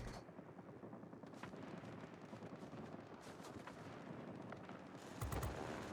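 Anti-aircraft fire in the World of Warplanes video game comes as a faint run of rapid popping bursts over a low engine rumble, with a heavier blast near the end.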